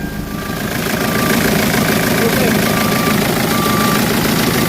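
Rebuilt Hyundai Santa Fe engine starts up and settles into a steady, loud idle, a close, continuous rumble with a faint whine riding on top.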